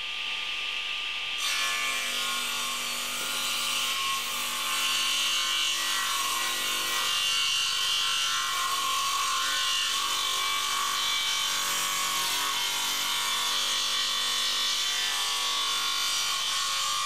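A DeWALT 720 radial arm saw bevel-rips a board, its blade starting abruptly and then cutting in one sustained, bright, steady whine with rubbing wood texture, close and alone.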